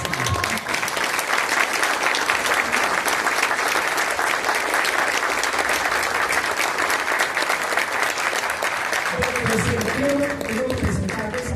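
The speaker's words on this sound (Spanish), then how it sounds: "permítanme solicitar otro aplauso más" Sustained audience applause at a talk event, loud and dense clapping from a large crowd lasting about nine seconds before it gives way to a speaking voice.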